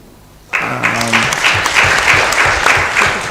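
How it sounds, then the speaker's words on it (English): Audience applause breaks out suddenly at an East African end-of-program event for women's economic opportunity, loud and sustained after a brief quiet start, with a short tonal sound and some crowd noise near the beginning. "I think they need another round of applause"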